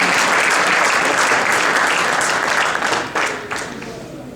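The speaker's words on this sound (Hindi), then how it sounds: "आइए वाजपेयी जी पर जोरदार तालियां" Audience at a Hindi comic poetry gathering in Phoenix, Arizona, breaking into dense, sustained applause that carries through and begins to taper off near the end, filling the hall.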